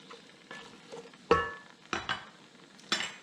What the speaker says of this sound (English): some eggplant, give this just a gentle stir.